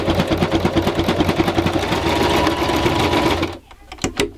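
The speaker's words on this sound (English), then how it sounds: "So I'm sewing them onto the curtains right now." A sewing machine runs loud and close in a rapid, steady mechanical chatter while stitching fabric tabs onto curtains, then stops abruptly, leaving a few faint clicks and handling sounds.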